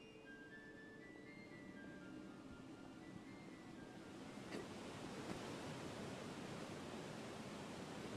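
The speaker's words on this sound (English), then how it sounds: "Nice waterfall." A video game waterfall in Northern Journey gives a quiet, steady rushing wash of white water that swells slightly partway through. No one speaks.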